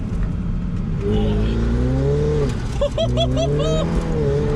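A Ferrari 488 Pista Spider engine revs up and down, its pitch rising and falling in smooth sweeps, followed by a few quick sharp blips of the throttle.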